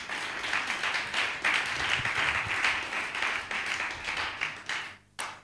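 A church congregation applauds for Jesus, dense sustained clapping that swells and dips for several seconds before breaking off abruptly, with a few voices faintly mixed in.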